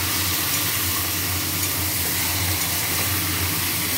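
Chicken marinated in yogurt, coriander, cumin, turmeric, salt and red chilli powder frying in oil in a pan, a loud, dense and continuous sizzle with no break.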